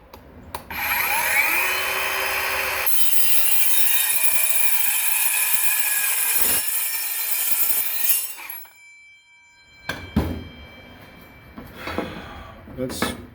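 BAUER 20v metal circular saw cutting across the top of a board, a loud close high whine that runs for several seconds, then winds down, followed by handling clatter and brief speech.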